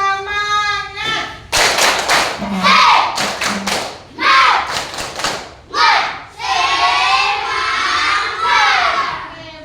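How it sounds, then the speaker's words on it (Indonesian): Group of participants, likely a classroom or training session, performing a rhythmic clapping chant: bursts of synchronized claps and shouted chant phrases alternate, loud and close, with voices singing along between clap sections. "Tepuk semangat."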